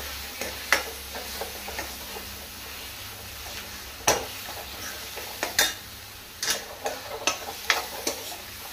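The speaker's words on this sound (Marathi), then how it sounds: "बरें ताका मिक्स करा." A spoon stirs a baingan bharta mixture of mashed eggplant, onion and tomato in a pan, giving irregular close scraping taps and clinks over a soft sizzle.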